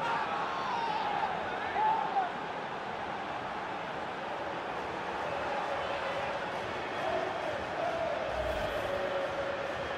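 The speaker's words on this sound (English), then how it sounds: "The crowd have gone crazy, and quite rightly so." Stadium crowd in the FIFA 19 video game roaring after a goal in a Champions League match: a broad, steady wash of cheering and noise with swelling peaks, no distinct voices standing out.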